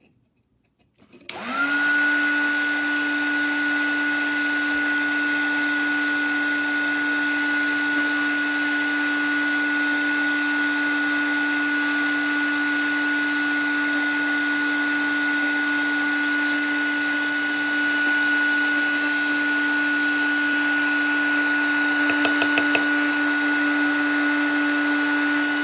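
A heat tool starts with a sharp click and holds a steady, high whining drone with a strong tone while warming a powder-coated polymer clay piece. It stays loud and close throughout, with no talk.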